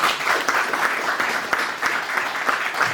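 A funeral congregation in a church in Évreux, France applauds to acclaim the Lord, steady dense clapping from many hands, loud and continuous throughout.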